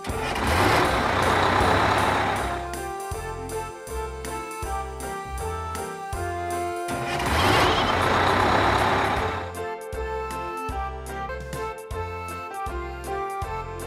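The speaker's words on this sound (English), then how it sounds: "Garbage truck." A garbage truck, with reversing beeps and two loud hissing bursts like air brakes, all within an upbeat children's vehicle song whose steady rhythmic backing plays throughout.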